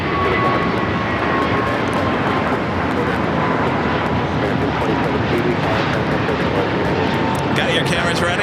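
An airliner takes off from the south side runways at LAX, its engines a loud, continuous roar that holds steady, with voices talking over it.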